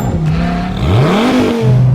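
An updated Nissan GT-R with all-wheel drive revs and pulls hard on a racetrack, its engine note climbing and shifting in close, loud sweeps.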